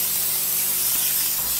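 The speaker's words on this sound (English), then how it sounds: "So I'm going to pre-spray" All-Clean sprayed from a pump foamer onto the insect-covered front end of a Cadillac gives a continuous, close, airy hiss lasting under two seconds, with no talking.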